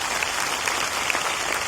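Audience at a speech event in Kolkata applauding, dense steady clapping from a large crowd, sustained and fairly loud throughout.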